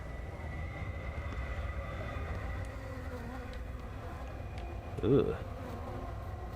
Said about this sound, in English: Got flies buzzing around.